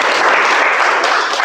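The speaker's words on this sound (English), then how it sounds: "They deserve a better round of applause" A meeting audience applauds its winners with loud, dense clapping that holds steady for the whole moment, close and full.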